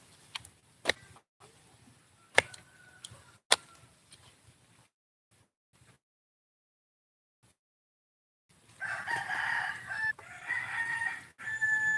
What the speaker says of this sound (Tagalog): Pakain na natin mga manok.